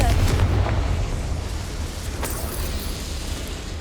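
A Confringo explosion spell from the video game Hogwarts Legacy bursts with a loud, deep boom at the start, then decays into a rumbling roar that fades slowly, with no talking over it.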